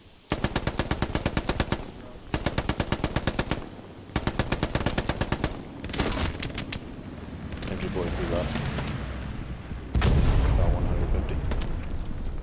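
Enemy machine gun firing in the Hell Let Loose battlefield game, sustained rapid bursts of automatic fire with short pauses between volleys, then heavier continuous gunfire and a loud boom near the end.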